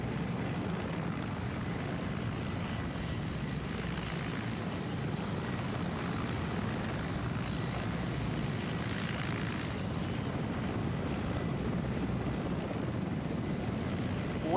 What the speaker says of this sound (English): Just fixing a bugged out chopper,